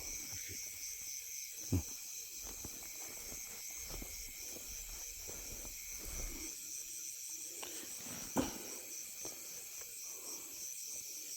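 Frogs call in the rain as a continuous, shimmering chorus. A faint patter runs beneath it, and a couple of soft thumps stand out, with no talking.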